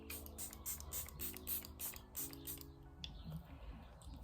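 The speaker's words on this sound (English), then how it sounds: "So I just sprayed it everywhere and my face is shiny and wet." Charlotte Tilbury Airbrush setting spray is misted onto a face in several quick, soft, hissing spritzes at close range, faint against a quiet room, then tapering off.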